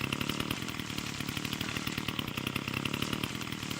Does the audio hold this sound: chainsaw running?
yes